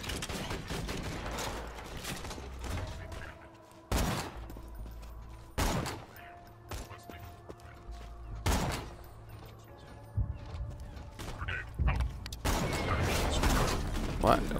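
Borderlands 2 combat with rapid game gunfire bursts and sharp grenade blasts, several loud broadband hits spaced through the stretch over dense mechanical clatter, with a voice talking at points.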